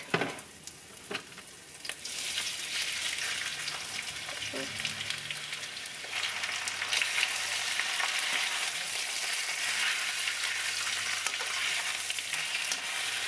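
Beef frying in a pan of canola oil, a steady broadband sizzle running throughout at close range, with a louder burst of crackling near the start as the meat hits the hot oil and faint stirring clatter.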